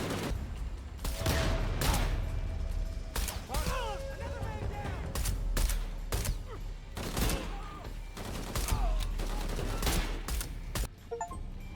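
Rapid bursts of gunfire in the video game Shadow of the Tomb Raider, with repeated loud shots and volleys across the whole stretch, mixed with game effects and a voice shouting.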